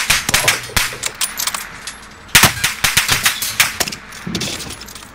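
Rapid bursts of video game gunfire, sharp cracks in quick irregular volleys with metallic clinks, loud and close over several seconds.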